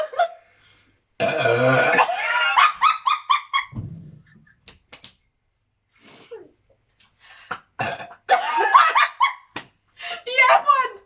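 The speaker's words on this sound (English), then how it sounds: "Such a big burp from such a little girl." A little girl and adults let out several loud, close burps during a no-burp challenge, with laughter and chatter between them.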